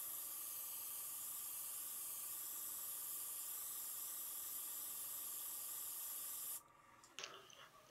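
A Gaahleri airbrush with a 0.38mm nozzle sprays a steady, even hiss for several seconds, then cuts off abruptly and is followed by a few faint clicks and handling noises.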